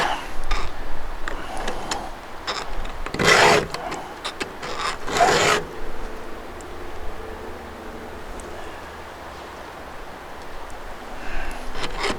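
A chainsaw chain is sharpened by hand with a file, producing a few loud rasping strokes in quick succession, then quieter scraping against a steady background.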